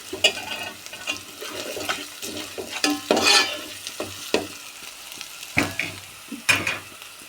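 Onion frying for a curry in a pan, with a steady sizzle and repeated scraping stirs and clatter of the spoon, loud and close with no talk.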